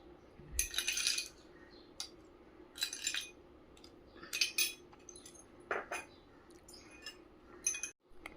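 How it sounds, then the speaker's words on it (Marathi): Ice cubes drop and clink against a glass of watermelon sherbet in separate bursts, sharp and close, with quiet pauses between. "बर्फाचे क्यूब्स घालूया"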